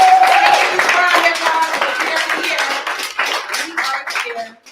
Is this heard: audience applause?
yes